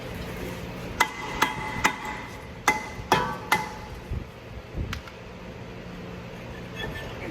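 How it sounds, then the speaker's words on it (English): A dead blow hammer strikes a brake rotor on a 2010 Buick LaCrosse about eight times in uneven bursts, sharp ringing blows close by, followed by a couple of duller knocks and quiet. "alternative motivation means a dead blow hammer"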